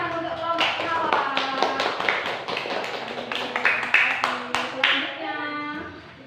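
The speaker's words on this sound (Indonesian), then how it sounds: "tepuk tangan untuk kelompok mawar" Children in a classroom clap for the Mawar group, bursts of hand claps mixed with sustained sung or chanted voices and children's chatter over the whole stretch.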